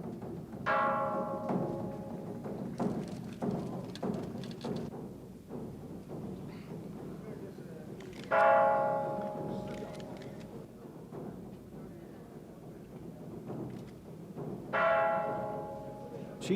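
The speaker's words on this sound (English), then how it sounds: "They bang the temple bells and drums for the Queen." Temple bells and drums struck at a Chinese temple during a royal state visit: three ringing bell strikes spaced several seconds apart, each decaying slowly over a low rumbling background with faint voices.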